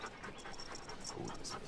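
A military working dog pants steadily and close by in a noisy outdoor training setting, with faint whimpers mixed in and no clear speech.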